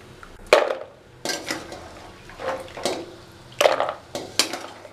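Biscuit dough for maida diamond-cut snacks being scraped and moved into another bowl, with several sharp clinks and knocks of utensil against vessel spaced irregularly, plus softer scraping in between, close and clear with no talk.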